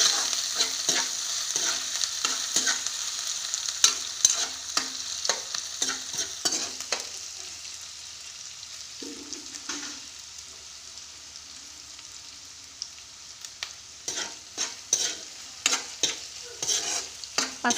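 Onion with ginger-garlic paste frying in a pan on low flame, with steady sizzling and repeated scraping stirs, a quieter sizzle in the middle before stirring picks up again.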